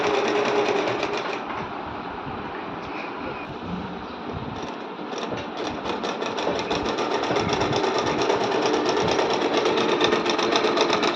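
A sewing machine runs steadily, stitching falls onto a saree, its fast continuous whirring motor and needle clatter loud and close throughout with no talking.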